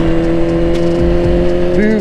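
A Suzuki GSX-R600/750 sport motorcycle engine runs with a steady, droning hum throughout, its pitch lifting briefly near the end as the throttle is opened to ride off.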